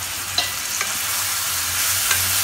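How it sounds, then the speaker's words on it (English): Continuous sizzling of food frying in a pan, with a few light scrapes of stirring; no voices. "They have been frying for 5 to 6 minutes now."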